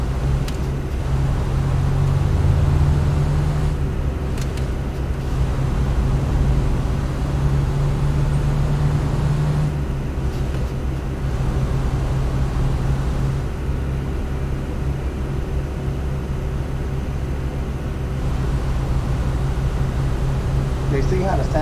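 Truck engine in American Truck Simulator, driven through the city with the window down, giving a loud steady low drone and rumble with slight swells, while a person talks over it.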